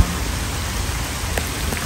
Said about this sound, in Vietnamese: Trời mưa to.